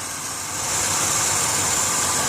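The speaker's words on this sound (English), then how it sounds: "Underneath the hood, you can hear the engine idle smoothly." A van engine idles under an open hood, a steady broadband hum and hiss heard up close that grows slightly louder after the first half second, then holds level with no talking.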